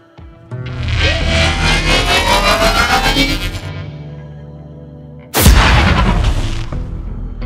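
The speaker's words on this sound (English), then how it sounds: "added a pitch modulator respace generated in Serum to the riser and the explosion" An explosion from Borderlands 3 game sound design, a swelling pitch-modulated riser building for several seconds into a sharp, loud blast with a reverberant, booming tail; no voices.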